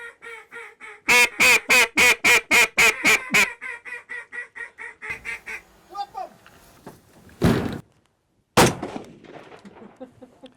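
During a waterfowl hunt, a rapid run of loud duck calls gives way to scattered quacking, then two sharp shotgun blasts a few seconds apart, with voices speaking briefly between them.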